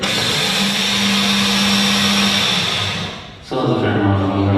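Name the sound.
blender grinding seeds into flour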